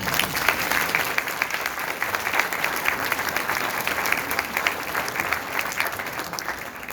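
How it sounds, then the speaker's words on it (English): A crowd claps steadily and loudly in sustained applause that tapers slightly toward the end. "Can you give them another big round of applause?"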